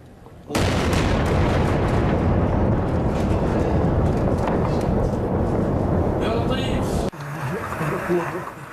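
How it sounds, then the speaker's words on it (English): Sustained roar of heavy explosions and blasts in a suburb of Damascus, Syria, at night, loud and continuous with sharp bursts, then a sudden drop to a quieter rumble near the end. "The explosions rocked a suburb of the capital, Damascus, overnight."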